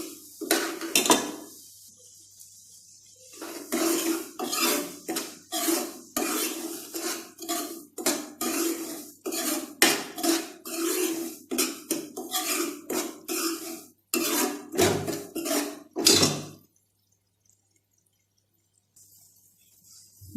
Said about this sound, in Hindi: बस दरमियानी सी आंच पे आपने इसको भूनना है।